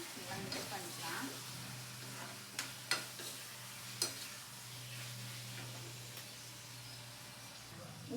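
Eggplant is stirred in a hot pan, a soft sizzle and hiss under a few sharp clinks of the spoon against the pan, quiet and close, with a low hum beneath.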